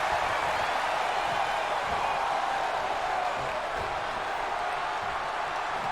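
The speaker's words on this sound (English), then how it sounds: "It certainly sounds like this Phoenix crowd is pumped up to be a part of this card here tonight." A WWE 2K20 arena crowd in Phoenix keeps up a continuous broad roar of cheering, steady and loud throughout without distinct claps.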